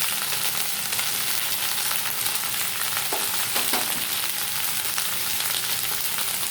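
Okra sizzles and fries steadily in a hot pan of oil, a loud, continuous crackling hiss that never lets up, with a couple of faint stirring scrapes partway through and no voices.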